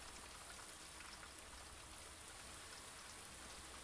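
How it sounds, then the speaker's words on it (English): Garden sprinkler spraying water in the video game Blue Prince, a steady, soft hiss like light rain falling continuously, faint and even with no breaks. "Or no, that's just the sprinkler."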